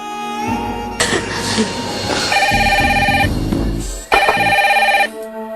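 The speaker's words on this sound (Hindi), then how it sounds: "ये सुबह सुबह किसका फोन आ गया?" A telephone rings in two loud electronic bursts separated by a short pause, with a low rumbling background and brief voice sounds.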